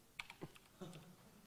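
Quiet, irregular keystrokes on a computer keyboard during a C++ conference, a few distinct taps then a muffled burst.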